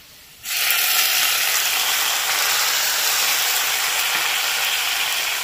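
Tomatoes added to fried potatoes in a pan for a prawn kofta curry set off a sudden loud burst of sizzling, which then holds as a steady close hiss with no talk.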